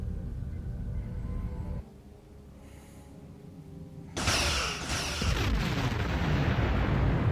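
Starship weapons in Star Trek Online open fire, starting with a low droning hum, then a heavy booming blast with a rumbling roar and a high whine trailing over it.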